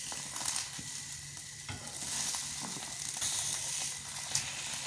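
Eggs frying in a pan, a steady soft sizzle with occasional stirring scrapes and small pops, fairly quiet and close, with no talking.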